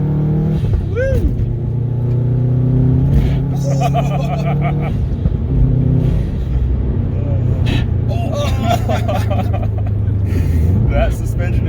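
A car's engine and exhaust rev hard while driving over a stiff suspension, loud and close, the note climbing and falling in repeated surges with a steady rumble underneath.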